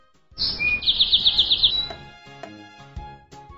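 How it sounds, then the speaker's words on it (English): Bright, rapid bird chirps trill in a quick rhythmic run for about a second, followed by softer musical tones, in a children's animal-learning piece. "Birds."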